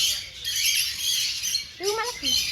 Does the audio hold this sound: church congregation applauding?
no